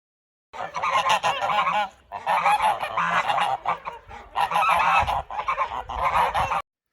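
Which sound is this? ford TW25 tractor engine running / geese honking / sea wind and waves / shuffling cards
geese honking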